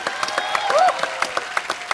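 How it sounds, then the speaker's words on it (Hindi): Steady applause from a TV comedy show studio audience, a dense patter of many hands clapping throughout, with a brief high whistle-like sweep in the middle. "जोरदार तालियां डॉक्टर साहब के लिए प्लीज"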